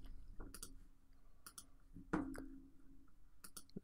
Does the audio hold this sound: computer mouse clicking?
yes